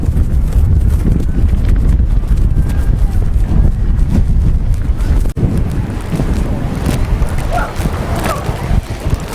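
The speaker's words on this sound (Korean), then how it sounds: "이쪽으로 나오니 바람이 좀 세네요" Strong wind buffets the microphone at a pebble beach campsite on a rainy day, a loud, steady roar with gusty rumble throughout, occasional faint clatter underneath.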